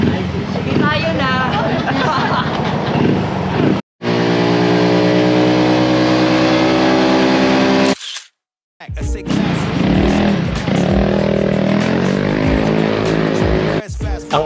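A car engine fitted with an aftermarket Etech Power Pipe exhaust revs hard in bursts with a loud, raspy exhaust note, cutting out briefly between pulls, with people talking in the background.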